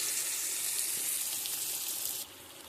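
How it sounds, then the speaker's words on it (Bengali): Potato and pointed gourd sautéing in spice paste give a loud, steady hiss of frying close up, which drops away abruptly near the end, with no voices. "আলু পটল দিয়ে আর একটু কষিয়ে নেব।"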